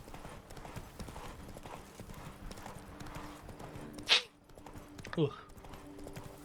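Roach the horse's hooves clip-clop in Witcher 3, a soft steady trotting rhythm under faint background, with a brief snort or whinny and a grunted voice near the end.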